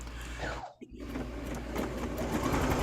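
A sewing machine stitches a quilt project, its fast mechanical whir running steadily close by with a brief pause near the start.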